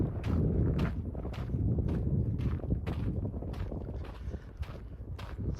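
Strong outdoor wind buffets the microphone in steady gusts near a pioneer cemetery and old house in Washington State, with regular faint footsteps underneath as someone walks.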